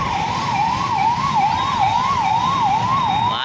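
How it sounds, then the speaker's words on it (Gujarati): An ambulance siren wails loudly at a four-way road junction, its rising and falling tone cycling evenly and close by over a low hum of traffic. "વાહન જઈ રહી છે, એમ્બ્યુલન્સ સર્વિસ સેવા"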